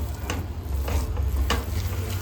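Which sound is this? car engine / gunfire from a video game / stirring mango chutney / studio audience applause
stirring mango chutney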